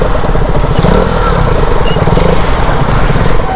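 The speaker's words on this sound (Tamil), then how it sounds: "சரி ஓகே இப்போ பார்த்தீங்கன்னா நம்ம இந்த பைக் ஓட்டுறோம்." A Yamaha R15 V3 motorcycle engine runs steadily and loudly up close as the bike is ridden, with a dense continuous low rumble and no clear pauses.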